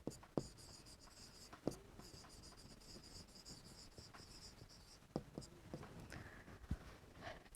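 Pen or marker scratching across a surface while a math equation is written out, quiet and continuous with short strokes and a few sharper taps, with no talking.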